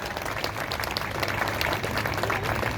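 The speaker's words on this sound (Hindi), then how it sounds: "तो आप सब अपने लिए जोरदार ताली" Steady, dense applause from a crowd at a gathering, many hands clapping continuously at an even loudness throughout.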